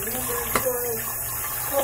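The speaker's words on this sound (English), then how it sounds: "Quit washing your hands so badly." Water runs steadily from a sink tap as someone washes their hands, a continuous broadband splash with a brief clatter partway through and faint voices in the background.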